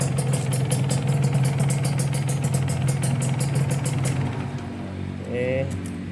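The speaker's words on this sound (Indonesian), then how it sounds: "Kalau mesinnya halus gini artinya mesin itu terawat, bloknya juga masih bagus gitu." A Kawasaki Ninja two-stroke motorcycle engine runs smoothly at idle nearby, a steady even hum that drops slightly near the end, followed by a few faint clicks.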